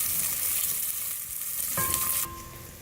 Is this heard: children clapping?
no